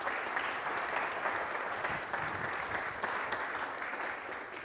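A university lecture audience at Dartmouth gives steady, even applause to welcome the guest speakers, with dense clapping that lasts throughout and no talk over it.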